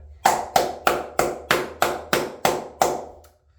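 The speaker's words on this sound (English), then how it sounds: "Round of applause to you, no matter what." Steady, evenly spaced hand claps, nine sharp close claps with brief ringing decay, slowing slightly and ending with a faint final tap, no voices.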